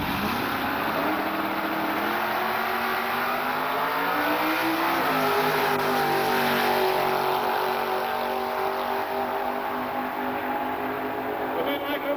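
Chevy Camaro and Chevy Monza drag race cars launch down the strip, loud engines climbing steadily in pitch through repeated gear-driven rises, a continuous roaring acceleration that holds near and loud throughout.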